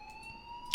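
An electronic alarm from the video game Life Is Strange sounds as steady high, sustained tones that keep going without a break, with a brief sharper burst near the end and no talking.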